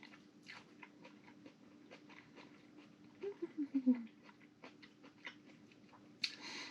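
Someone chews a spoonful of smoked beet borscht, a quick run of soft, moist chewing sounds at close range, with a faint room background and no talking.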